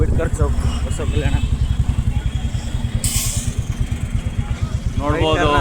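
A motorcycle ridden through night traffic in Basavakalyan, its steady, close engine thrum running throughout. A brief hiss cuts in midway, and a voice talks over the ride.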